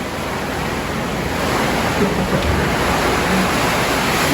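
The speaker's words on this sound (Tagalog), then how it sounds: "Grabing lakas na ulan, no?" Heavy rain lashes down with strong gusting wind at a pigeon loft and aviary, a dense, loud, continuous roar of downpour and wind noise filling the whole stretch with no voices.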